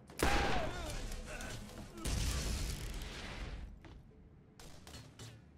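Gunfire in Borderlands GOTY Enhanced: dense bursts of shots and booms, loud at the start and again around two seconds, then fading to a few sharper reports near the end.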